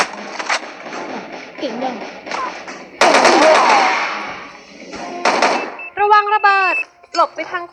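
Sharp bursts of gunfire crack amid loud effects in the video game Hardshot, with a heavy blast in the middle and a voice speaking in between shots.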